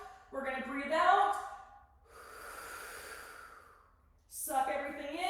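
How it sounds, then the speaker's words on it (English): Slow, controlled breath out through the mouth during a postpartum core exercise while lying flat on the back, a steady airy exhale lasting about two seconds between stretches of someone talking. "We're going to breathe out."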